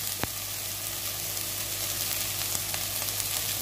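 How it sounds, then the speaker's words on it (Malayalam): Chopped onions sizzle in a hot pan while chilli chicken is being cooked, a steady frying hiss with a few sharp pops, close and even throughout, with no talking. "ഇതിലേക്ക് നമ്മൾ നേരത്തെ അരിഞ്ഞു വെച്ച ഒണിയൻ സവാള ചേർത്ത് കൊടുക്കാം"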